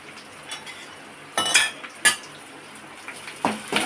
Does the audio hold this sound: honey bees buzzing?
no